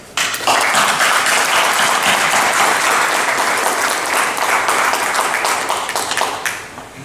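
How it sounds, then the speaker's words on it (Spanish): Sustained audience applause at a book presentation for a labour law treatise, loud and dense clapping that swells in and holds steady before stopping near the end. "los compañeros merecen nuestras felicitaciones y nuestro aplauso"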